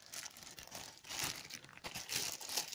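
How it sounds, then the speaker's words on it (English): A small plastic bag crinkling close up while a smoke detector's parts are packed away during an unboxing, soft uneven rustles and crackles that swell in a few bursts, with no speech. "let me just put it in this wee plastic bag"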